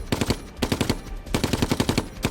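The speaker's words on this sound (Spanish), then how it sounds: "Una de las ametralladoras alemanas que hay al otro lado de la plaza está retrasando todo el avance." Bursts of German machine gun fire from across a town square during a World War II street assault, several rapid rattling volleys separated by brief pauses, loud and close with no voices.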